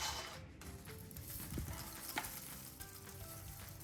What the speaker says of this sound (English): I pan fry them with a bit of butter and garlic and seasoning salt